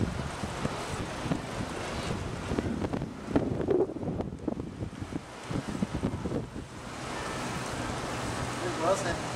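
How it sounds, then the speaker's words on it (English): Wind roars across the microphone during an outdoor bike ride, a loud, fluctuating rumble with gusty surges, while people talk briefly under it. "Windy."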